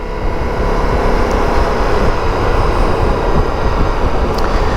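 V4 motorcycle engine running under steady load, a loud continuous droning roar with wind rush and no pauses.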